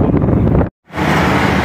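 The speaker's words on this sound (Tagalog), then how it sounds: "Nasa may makina ako. Kaya maingay." A ferry's engine drones loudly and steadily near the engine area on a crossing from Athens to Corfu, with wind buffeting the microphone, briefly cut off for a moment before resuming.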